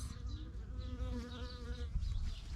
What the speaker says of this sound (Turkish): arılar çiçeklerden polen toplamaya başlamış